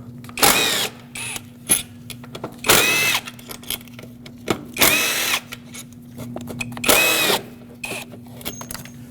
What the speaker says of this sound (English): I just need to unbolt it from the throttle body, like I said, so let's remove all 4 bolts.